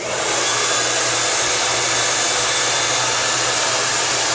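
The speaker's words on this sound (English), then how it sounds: "I'm gonna blow dry a little bit, I'll stop, and then I'll come back in a little bit" A hair dryer blows steadily and loudly at close range while styling hair with a brush, a constant broadband whoosh with a low motor hum, running without pause and with no talking.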